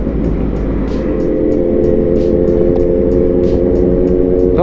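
Kawasaki Versys 1000 and Z900 inline-four motorcycles ride through the enclosed Kaybiang Tunnel at night, their loud, continuous engine roar echoing and booming off the walls close by.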